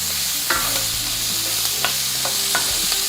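Celery and carrots sauté in an Instant Pot after turkey has been browned in it, a loud continuous sizzle with a low hum beneath and several sharp spoon scrapes and clacks against the pot, close up, with no speech.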